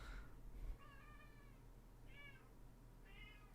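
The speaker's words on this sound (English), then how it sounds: "Meow." A cat meows three times, soft and somewhat distant: one short call, then two longer tonal meows, all over a low steady background hum.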